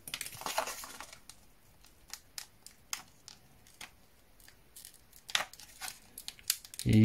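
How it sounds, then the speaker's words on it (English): Scissors snipping and working around a small battery to free it from a device, giving sparse, quiet crisp cuts and crinkles spaced out over the stretch, with a louder handling clatter at the end. "you need to kind of cut all around the battery to get it out of here"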